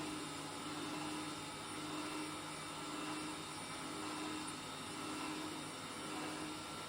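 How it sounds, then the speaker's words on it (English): A steady motorized whir of a juicer grinding away, constant and droning with no pauses, heard close up and alone. "The blender is twisting and turning."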